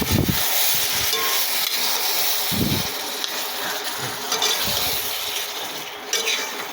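Curry with onion and garlic fries in a pan, a steady crackling sizzle under intermittent stirring scrapes and low clunks of the utensil, close and continuous without speech.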